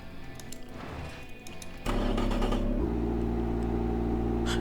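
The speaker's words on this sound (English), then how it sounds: "That idle sound is actually pretty cool because of the missing rear muffler." A video game car engine in Automation, with headers, one straight-through muffler and no rear muffler, starts up and settles into a loud, steady, throaty idle with a deep rumbling drone.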